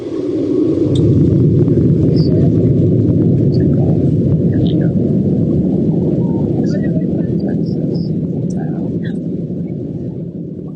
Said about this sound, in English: And that is the sound of the engine.